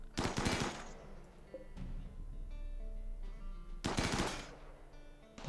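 Rapid bursts of gunfire as a colonist shoots at an insect hive in RimWorld, two loud automatic volleys a few seconds apart over a low game hum, with scattered tonal game sounds between.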